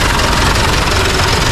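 Tractor engine idling out in a field, a loud, close, steady low rumble with a dense broadband drone and no change across the short stretch.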